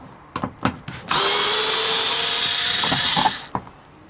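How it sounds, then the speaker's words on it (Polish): A power screwdriver backs out Torx 15 screws from the tailgate trim latch area of a Citroen C4 Picasso, a few short clicks then a long steady whir of about two seconds, close and loud. "Jeżeli chodzi o śrubki, które znajdują się w uchwytach zamykania klapy bagażnika, Torx 15 i odkręcamy"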